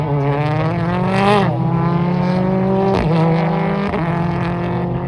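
Race cars launching at the start of a qualifying race, engines screaming loud and close as they rev up through rising gear shifts, with brief dips between each climb.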